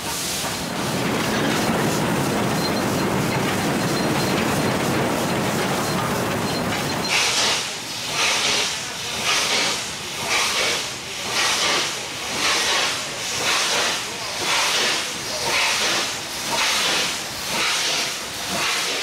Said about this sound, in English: Nothing evokes the romance of the railway like a steam engine.